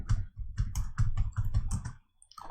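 A mobile number is typed on a computer keyboard, about ten crisp, close keystrokes in a quick even rhythm, then a brief pause and one more key, with no talking.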